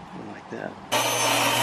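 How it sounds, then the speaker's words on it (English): A loud, steady power sander starts abruptly and runs with a harsh, broadband whir on pieces of wood after a moment of quieter background noise. "So now we're sanding down the pieces of wood."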